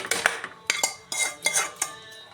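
A tempering stirred in a pan for tomato dal, a quick run of metallic spoon scrapes and clanks against the vessel, close and fairly loud, with little sizzle underneath.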